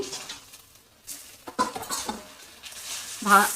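Oil-fried potatoes tipped into a pan of masala for a jackfruit and prawn curry, then stirred: scraping spoon-on-pan clatter and rustling over a light sizzle, close and moderately loud, with no voices.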